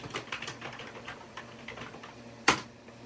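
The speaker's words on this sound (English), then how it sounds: "I will go ahead and type in my name and the organization" Steady, moderately quiet clicking of a computer keyboard as a name and organization are typed during a Windows NT 4.0 setup, irregular keystrokes ending in one sharp louder key press.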